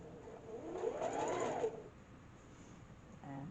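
A sewing machine stitching a purple star quilt block runs in a short quiet whirring burst of about a second, then stops. A faint mechanical whir follows near the end, close and soft with no talking.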